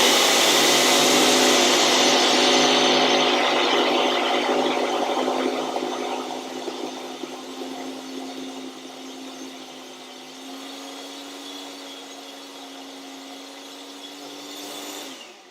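An electric grinder pulverising gingerbread cookie ingredients roars loudly at first, then settles into a lower steady whine as it runs for about fifteen seconds before cutting off, with no talk.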